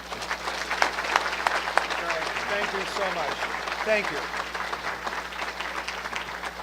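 An audience at a City Club event gives moderate, steady applause for the Metra chairman, with a voice speaking briefly over the clapping.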